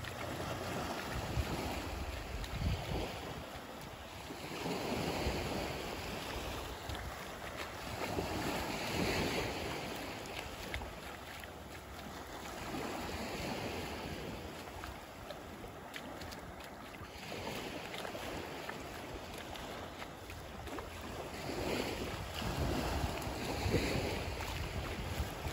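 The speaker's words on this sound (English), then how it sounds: "I'm quiet and I just give you a nice, lovely shot of the beach" Low-tide waves washing onto the sand at Lighthouse Beach on Sanibel Island, a continuous soft wash of surf with wind buffeting the microphone, steady and moderately distant with no talking.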